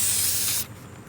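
Rust neutralizer sprays from a can onto a metal surface in a short, steady, close hiss that stops abruptly after about half a second.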